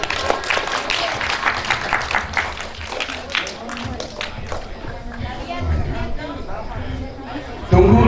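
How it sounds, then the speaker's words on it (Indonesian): Applause at an alumni reunion gathering: a room full of people clapping briskly over lively chatter, with the clapping thinning out after a few seconds while talk carries on. "Tepuk tangan untuk Kataha."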